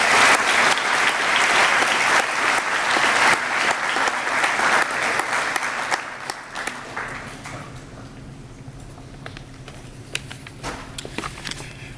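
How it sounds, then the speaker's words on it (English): Audience at a school district distinguished alumni awards assembly gives a loud, dense round of applause that fades over several seconds into scattered claps and room noise. "giving him a great round of applause."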